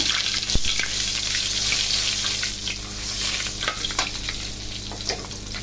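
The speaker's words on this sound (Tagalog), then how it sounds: "dadako naman muna tayo sa pagpiprito ng ating meatloaf para naluluto sila ng sabay" Diced meatloaf and butter fry in hot oil in a pan, producing a dense, steady sizzle with occasional stirring scrapes and pops up close.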